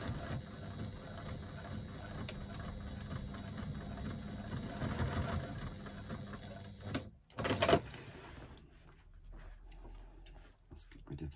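A domestic sewing machine stitching fabric at a construction stitch length, a steady whirring motor hum for several seconds, then a brief clunk and quieter handling noises afterward.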